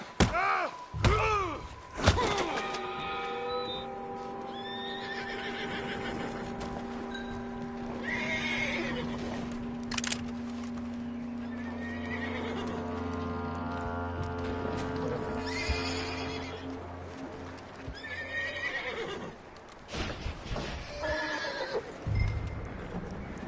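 A horse whinnies loudly in a Red Dead Redemption 2 scene, then hooves clop and a few thuds follow, with more neighs and snorts recurring close by across the stretch.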